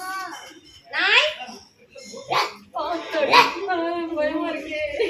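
A voice mimics a dog barking in a few sharp, yelping bursts separated by short gaps, close and fairly loud, with soft giggling around them.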